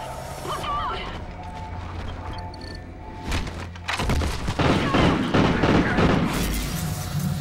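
Heavy gunfire and booming impacts in Call of Duty: Ghosts during an attack on the Odin control station in space, building into dense, loud crashing bursts; voices shout over the din.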